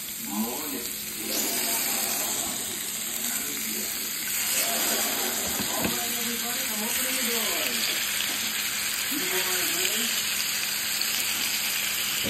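Fish sizzles and crackles in hot seasoned coconut oil, a steady close frying hiss with someone speaking briefly over it now and then.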